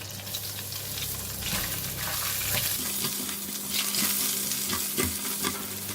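Garlic sizzles and fries in a pan after meat has been removed, for sweet and sour pork, with steady crackling and occasional stirring scrapes close by; no talk.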